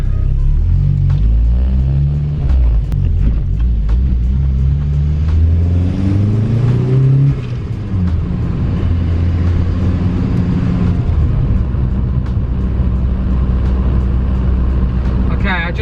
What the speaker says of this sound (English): I just saw it go up to around 8 on that pull, and then drop back down to 7 on full throttle